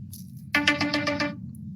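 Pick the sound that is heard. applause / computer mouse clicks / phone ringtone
phone ringtone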